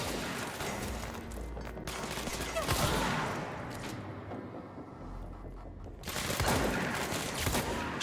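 Gunfire in the video game Control, several loud noisy bursts of shots with a quieter stretch in between, no talking over it.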